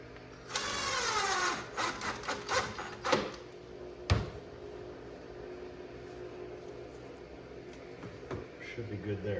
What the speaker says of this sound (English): I want to run my screws as far in as I can